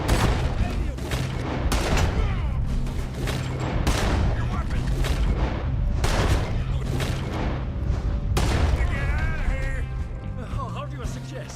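Gunfire in a Western-style video game, a barrage of sharp reports and booming shots layered over continuous loud game ambience, with a person speaking over it.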